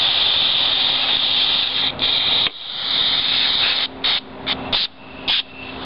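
Aerosol brake cleaner sprays in long hissing bursts onto a disc while fixing a slipping clutch on an 80/66cc bike engine kit, a steady close spray broken by short pauses and then several quick blasts.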